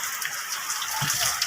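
Rain pouring down outdoors while children bathe in it, a dense hissing wash with scattered splashes and soft low thumps throughout, no speech.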